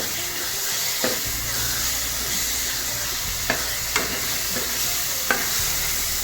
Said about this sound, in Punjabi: ਹਰੀ ਮਿਰਚ ਦਾ ਪੇਸਟ ਪਾ ਰਹੇ ਆਪਾਂ ਨੇ ਭੁੰਨ ਲੈਣਾ ਹਲਕਾ ਹਲਕਾ